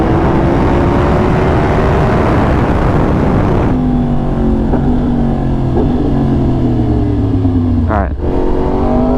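A 2020+ Yamaha R1 sport bike with a flashed ECU holds a loud, steady high-RPM engine howl in fifth gear at 7,000 RPM. The pitch drops once, then a brief revving sweep follows under constant wind roar.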